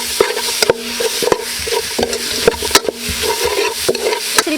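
Chili and other ingredients fry in a pan for a Khmer chicken drumstick curry, giving a steady loud sizzle broken by repeated sharp scrapes and clacks of stirring, with no talk.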